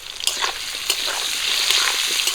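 Potatoes sizzle in hot oil in a wok seasoned with turmeric and salt, a steady crackling fry with sharper spits and pops close by.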